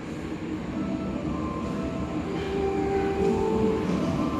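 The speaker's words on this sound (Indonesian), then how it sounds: "ini ada komuter lain masuk jalur 4 tadi ya." A locomotive-hauled Indonesian commuter train with Eco AC Split coaches rolls into station track 4, giving a continuous rumble with faint wheel squeal that swells slightly toward the end.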